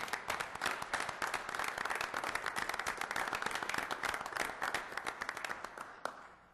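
A council meeting audience in Elmhurst gives a state representative a steady round of dense clapping that holds for about six seconds before stopping abruptly.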